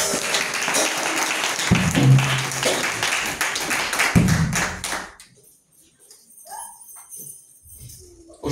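A church congregation breaks into loud, dense applause and rhythmic clapping close by, mixed with cheering voices, then cuts off abruptly into near silence with faint distant sounds.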